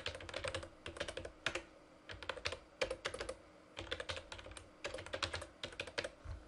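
Rapid bursts of computer keyboard typing as a password is entered, clicky keystrokes coming in quick runs separated by short pauses, close and moderately loud with no talking.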